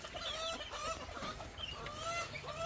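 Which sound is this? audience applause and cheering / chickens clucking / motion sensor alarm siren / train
chickens clucking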